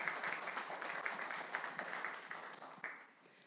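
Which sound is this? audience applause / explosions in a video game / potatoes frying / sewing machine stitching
audience applause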